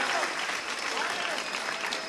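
Audience applause for the MCs at a high school spoken word event, a steady wash of clapping throughout at moderate level.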